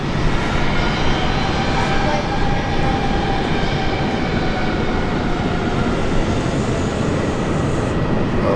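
A Metro aircraft departing on runway 19 left at Brisbane International gives a steady, broadband roar that holds at a strong level throughout, heard from outdoors at a distance.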